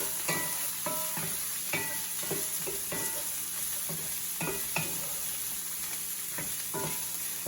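Vegetables stir-frying in a hot pan with peanut oil, salt and pepper, a steady sizzle broken by repeated clattering stirs and tosses, close and fairly quiet.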